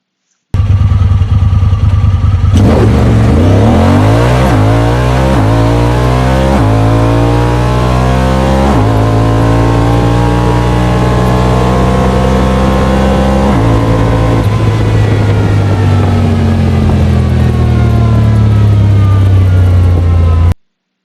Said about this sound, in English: The very first run is going to be the stock machine on 32-inch tires.